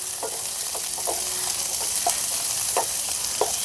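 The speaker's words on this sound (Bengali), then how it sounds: "আবারও একটু নাড়াচাড়া করে ভাজা ভাজা করে নেব" Chopped capsicum stir-frying in a hot pan over a high gas flame, a steady close sizzle broken by quick spatula scrapes and stirs every half second or so, with no talking.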